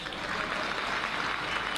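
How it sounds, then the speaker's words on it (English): An audience applauding at a political address in Uganda: a dense, steady wash of clapping from many hands, sustained and even for the whole moment, with no voices over it. "They clapped."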